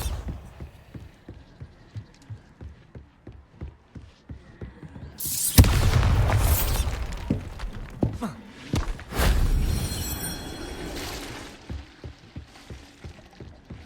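A Bombarda spell explodes in Hogwarts Legacy, a loud burst of blast noise and rumbling debris that follows quieter footsteps and dies away, then a second, shorter blast with a ringing tail.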